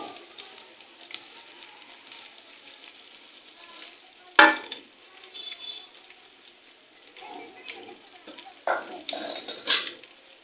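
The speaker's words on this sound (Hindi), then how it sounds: "तो यहाँ पे सबसे पहले हम करेंगे प्याज़ों को थोड़ा सा गोल्डन।" Sliced onions fry in a pan toward golden, a steady soft sizzle broken by a few louder stirring scrapes and clatters near the middle and end.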